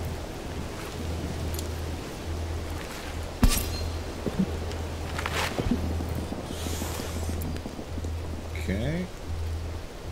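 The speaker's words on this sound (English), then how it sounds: "the rain's coming." Steady rain falls in the video game Mind Over Magic, a continuous dense patter with a brief sharp crack partway through, alongside a low repeating game tone.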